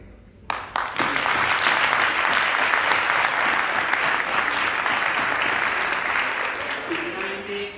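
An audience in a congress hall in Cáceres, Spain applauds at the close of a world congress on childhood and adolescence, a sudden loud outbreak of clapping that holds steady and then slowly tapers off.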